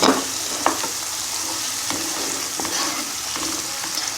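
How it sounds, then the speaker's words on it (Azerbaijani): Onion and pepper fry in a pan for borscht, a steady close sizzle with a few light scrapes as they are stirred, and no voices. "Soğan biraz qızarandan sonra biberi əlavə edirəm."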